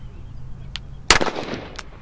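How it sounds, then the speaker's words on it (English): One sharp, loud gunshot from a 1911 pistol fired at a box of ammunition outdoors, with a short echoing tail and a few faint clicks before and after. "I'm gonna shoot it again."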